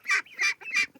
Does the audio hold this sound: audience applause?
no